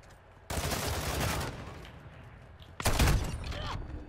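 Shotgun blasts in a video game: two loud, broad bursts, the first around half a second long with a decaying tail, the second sharper and heavier near the end, over a low background hum.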